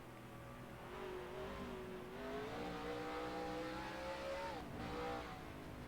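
Race car engine in NASCAR Racing 2003 drones and rises in pitch as it accelerates out of a corner, a steady mechanical whine that climbs, dips briefly and climbs again, fairly faint and without talk.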